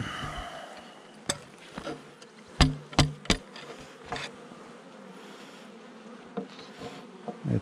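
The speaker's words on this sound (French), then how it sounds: "Elle est très bien cette souche d'abeille" Honey bees buzz at an open hive, a soft continuous hum broken by a few sharper clicks and knocks of handling the frames nearby, with no talking.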